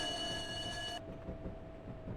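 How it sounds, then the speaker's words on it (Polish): A Moderus tram rolls along in the Roblox game with a steady, close, continuous rumble; a thin high whine sounds over it and cuts off about halfway through, and no one speaks. "udało się ogarnąć jakiś jakiś spokojny przejazd tramwajem"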